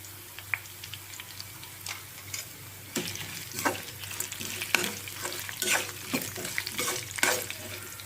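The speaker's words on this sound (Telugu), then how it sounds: "కొంచెం అవి కూడా మగ్గేదాకా కొంచెం తిప్పుకుందాం ఇలాగా" Spices and dried red chillies sizzle in a pan as they are stirred for ajwain (carom seed) fried rice, with repeated scraping stirs growing busier over a constant frying hiss.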